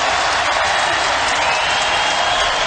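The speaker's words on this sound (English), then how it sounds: "We talked about crowd noise." A large baseball stadium crowd at an Athletics versus Orioles game in 1997 sends up a steady, dense roar that holds evenly throughout, with no single voice standing out.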